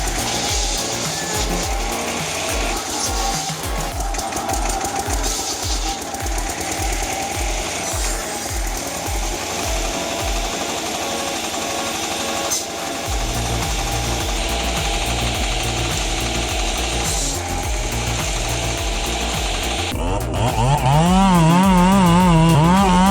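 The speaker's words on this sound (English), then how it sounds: "This is a machine with extremely powerful wood-cutting capabilities." A big, powerful chainsaw cuts through logs, starting with rapid rhythmic chugging, then settling into a loud continuous buzzing drone, with the engine pitch wavering and revving up near the end.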